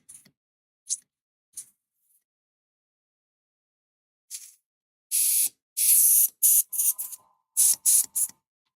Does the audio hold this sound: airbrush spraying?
yes